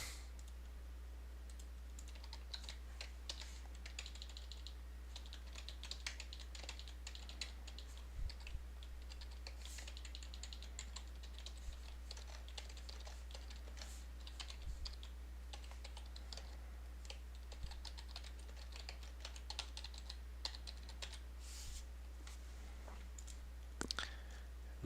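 Keys clatter on a computer keyboard in quick, uneven bursts of soft clicks, faint and close, with a steady low electrical hum underneath and no voices.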